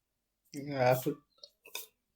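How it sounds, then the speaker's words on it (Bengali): One drawn-out, voiced burp rumbles close to the microphone, followed by a couple of faint clicks and a soft short burst before quiet. "এই ঢেকুর উঠছে"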